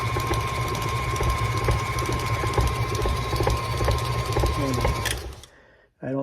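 A KitchenAid stand mixer beating sugar runs with a steady, loud mechanical whir and rhythmic rattle, then winds down and stops near the end, with a clunk afterward.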